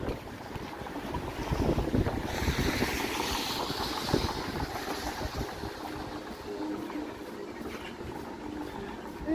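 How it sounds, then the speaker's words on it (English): Steady wind gusting across the microphone on a downtown Toronto city street walk, a loud continuous rushing roar that swells and holds throughout with no voices. "at least walking in this direction, the wind is not assaulting my face"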